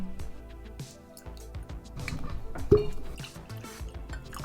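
Elijah Craig Barrel Proof bourbon poured into glasses, a quiet gurgling trickle with small drips and a glassy clink near the middle, close and alone.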